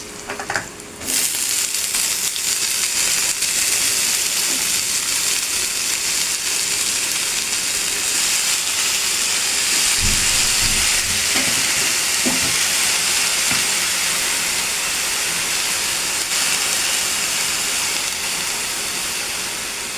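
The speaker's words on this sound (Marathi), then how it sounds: "चांगला कांदा परतला आहे म्हणजे त्याच्यामध्ये मी ही चिरलेली भाजी टाकते" Chopped wild greens hit sautéed onion in a hot pan, giving a loud, steady hiss and sizzle that holds the whole time, with a few faint clinks along the way.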